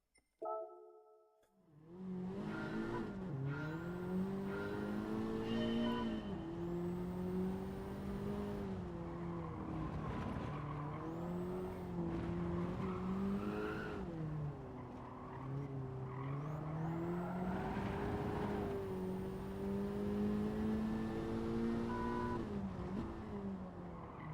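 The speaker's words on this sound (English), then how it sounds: "Braked too late into turn one." A race car in a racing video game brakes late into a turn, its engine droning and shifting pitch continuously alongside tyre squeal and skidding, loud and close throughout, with no voices.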